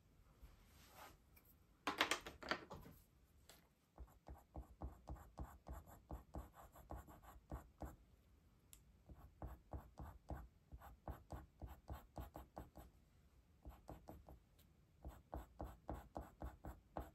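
Coloured pencils scratch across paper while drawing a realistic bumblebee, a quiet close series of rapid short strokes arriving in bursts with brief pauses, faint and intimate.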